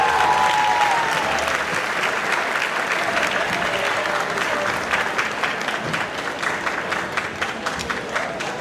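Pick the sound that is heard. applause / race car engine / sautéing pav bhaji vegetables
applause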